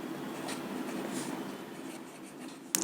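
Chalk or marker scratches across a classroom board as a teacher writes out a chemistry definition of oxidation, a steady close rubbing stroke sequence ending in a sharp tap.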